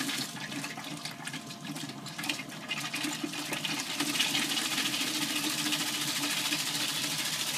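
Water from a cottage's pressure-controlled water system rushes out of a container in a steady, continuous gush. Flow noise fills the whole stretch and swells slightly partway through, with a faint mechanical hum underneath.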